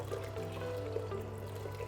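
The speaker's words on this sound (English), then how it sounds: "So we're going to pour the water in just so it just covers or a little bit over" Boiling water is poured into a pan of rice for a beef curry, a steady close trickle and splash running continuously over a low background hum.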